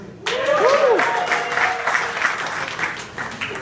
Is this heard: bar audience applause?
yes